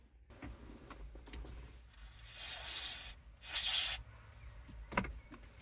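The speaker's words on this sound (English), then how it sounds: "So I will put some more contact spray on this connector" Two hissing bursts of contact spray aimed at the hazard switch connector of a Mitsubishi Pajero, the second shorter and sharper, amid quiet fiddling and a small click.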